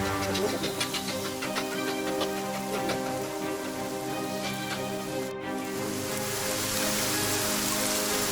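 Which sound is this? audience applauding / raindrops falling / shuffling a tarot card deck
raindrops falling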